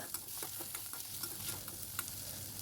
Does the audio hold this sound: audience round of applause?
no